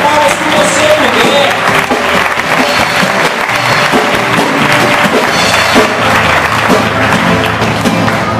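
A church congregation applauds together in continuous, dense clapping that stays loud and full throughout, with crowd voices mixed into the clapping.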